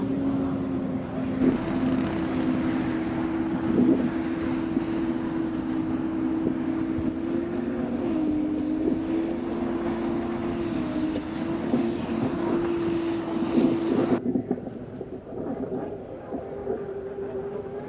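The U-96 Graham Trucking American Dream unlimited hydroplane, driven by Corey Peabody, races on the water with a sustained, loud engine drone that holds a steady pitch, mixed with constant wind rush.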